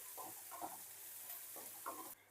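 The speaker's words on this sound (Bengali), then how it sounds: "পেঁয়াজের সাথে কাঁচা লঙ্কা আর শুকনো লঙ্কাটাও ভেজে নেব।" Onions with green and dried chillies fry in a pan for a fish-head ghonto, a steady high sizzle with a few scraping stirs of a spatula, close and moderately loud, ending abruptly.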